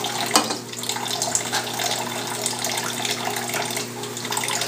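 Running water from a household tap fills a bath for a parrot, a steady, close, continuous gush with no talking over it.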